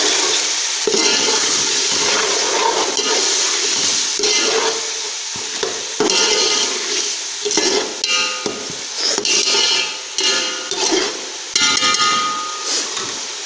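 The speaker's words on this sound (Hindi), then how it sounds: "दाल डाल के हमने इसको बहुत ज़्यादा नहीं फ्राई करना।" Chana dal is fried in spice masala with a spoon scraping and clattering against the pan in irregular bursts over a constant loud sizzle.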